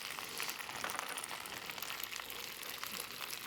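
Spinach and garlic sauté in oil in a pan, a soft steady sizzle and crackle that runs evenly throughout, fairly quiet.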